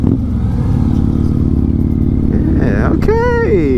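A Harley-Davidson Glide motorcycle engine drones loudly and evenly while being ridden, with a rising tonal sweep near the end. A rider's voice is heard over it.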